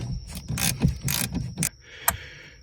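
A 10 mm ratchet loosens the negative terminal bolt on a Hellcat Challenger's car battery, giving several bursts of close, quick clicking separated by short pauses, then one sharp final click.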